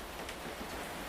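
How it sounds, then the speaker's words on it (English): Gentle, steady rain falls at night as an even, soft hiss of drops with no pauses and no voices. "The rain continues tonight, gentle and steady,"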